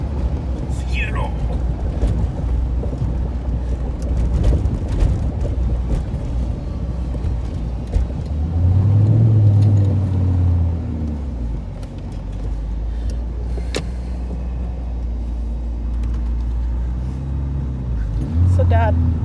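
A 1984 Pontiac Fiero engine hums steadily from inside the car, with a low drone that swells briefly as it accelerates, while people talk quietly over it.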